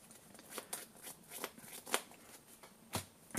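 Yu-Gi-Oh cards are cut and shuffled by hand in a short run of close, crisp riffling snaps and soft card slaps, fairly quiet and with no talking.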